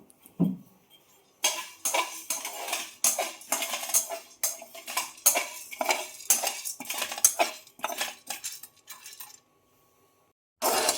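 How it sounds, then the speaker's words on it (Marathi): Chana dal roasting in a pan over a low gas flame, stirred with a utensil that scrapes and clinks against the metal in dense bursts, before a pause and a final round of stirring. "तर हे बारीकच गॅसवर मी भाजते आहे चण्याची डाळ"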